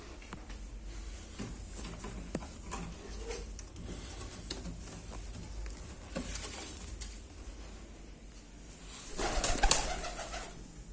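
Pigeons coo in repeated soft, throaty calls at close range over low background noise, with a brief burst of fluttering or rustling near the end.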